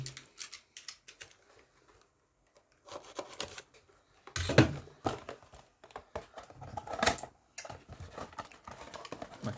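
Someone opens the box of a Revell 1/450 Boeing 747-200 model kit in KLM livery, with close-up bursts of cardboard and plastic rustling and crinkling, separated by short pauses.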